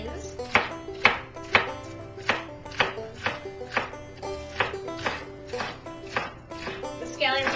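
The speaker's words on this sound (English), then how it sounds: "I'm going to cut up 2 green scallions." A kitchen knife chops green scallions into small circles on a cutting board, about a dozen crisp, evenly spaced taps close to the microphone, with no voices.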